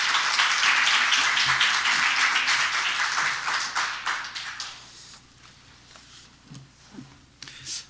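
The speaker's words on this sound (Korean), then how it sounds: "박수로 환영하시고 계겠습니다" Audience at a Korean church Wednesday worship service applauds to welcome a guest pastor; steady clapping fills the first few seconds, then thins and fades, with scattered claps and faint room noise near the end.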